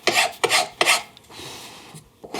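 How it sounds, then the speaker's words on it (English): Rasp strokes on wood working an inside curve: three strong rasping bursts in quick succession, followed by a softer, steadier rub and one more stroke at the end, close and alone. "you can use a flat surfaced file or rasp on an inside curve"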